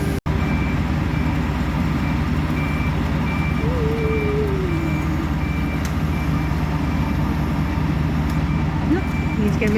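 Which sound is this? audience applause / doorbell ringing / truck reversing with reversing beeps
truck reversing with reversing beeps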